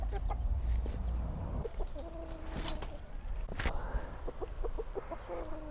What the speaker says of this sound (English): I want to give Mama and her chicks a chance to actually get some food without this Mama trying to attack